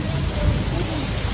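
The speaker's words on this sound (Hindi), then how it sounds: "फिर तो यहाँ हो गई बारिश स्टार्ट" Steady rain pouring down, a dense close hiss of drops hitting surfaces, with a low rumble underneath.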